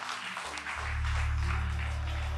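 A church congregation claps during worship, a short wash of applause over a deep, sustained keyboard bass note that swells in after a moment.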